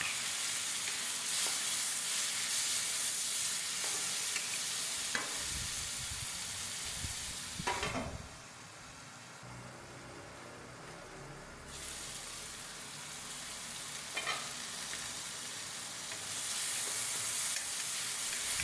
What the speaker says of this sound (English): Then I'll add the tomatoes and continue cooking until they soften.